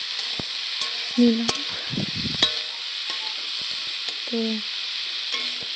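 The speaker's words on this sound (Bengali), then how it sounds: "মূলোটা দিয়ে দিয়েছি কড়াইয়ের মধ্যে" Radish pieces fry in a kadai with a soft steady sizzle, broken by sharp clinks and scrapes of a stirring spoon and brief bursts of spattering; a voice speaks a couple of words.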